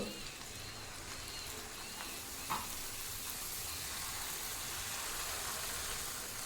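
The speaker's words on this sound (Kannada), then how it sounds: "ಇವಾಗ ನಾವು ಪೂರಿಯನ್ನು ಫ್ರೈ ಮಾಡ್ಕೊಳ್ಳೋಣ ನೋಡಿ ಇವಾಗ ಎಣ್ಣೆಯಲ್ಲಿ ಹಾಕ್ತಾ ಹಾಕ್ತಾಯಿದ್ದೀನಿ" Puri frying in hot oil makes a continuous, even sizzle of bubbling fat, moderately quiet and close, with one brief clink partway through.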